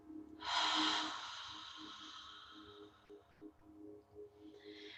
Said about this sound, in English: And now breathe in through the nose and breathe out.